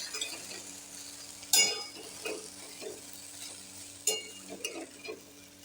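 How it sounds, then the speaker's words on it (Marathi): Cluster bean sabzi is stirred in a pan after the lid comes off, with scraping utensil strokes and a couple of sharp metallic clanks over a low background sizzle. "झाकण काढून घेतल्यानंतर आपण एकदा परतून घेऊया"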